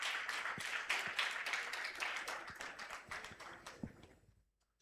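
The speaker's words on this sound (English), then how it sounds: "let's give him a round of applause" An audience at a UN Women Uganda strategic note launch claps for an embassy guest, with clear individual claps in a moderately full applause that thins and fades to silence.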